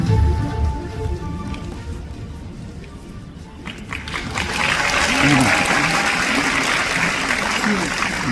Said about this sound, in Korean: 부총재님을 박수로 맞이해 주시기 바랍니다.